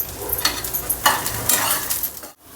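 Peanuts dry-roasting in a pan for a Marathi-style pigeon pea pod aamti, with a close, continuous scraping stir and light crackle that stops abruptly near the end.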